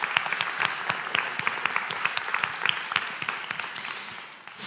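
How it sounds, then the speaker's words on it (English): Audience applause fills the room in a steady, dense patter of many hands clapping, holding at an even level for several seconds before thinning slightly at the end; no voices over it. "Yes, big round of applause."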